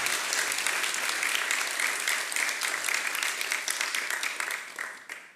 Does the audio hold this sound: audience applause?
yes